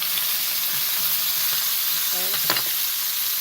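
Garlic added to a hot pan sizzles and fries with a steady, close hiss, joined by a brief stirring clatter of a utensil against the pan, while a voice speaks a single short word.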